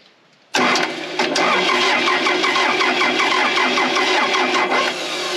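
A Case 450B dozer engine with fuel barely filling its chamber cranks over and abruptly roars into loud, steady running. The rough, heavy mechanical noise continues close and unbroken, easing slightly near the end, with no voices.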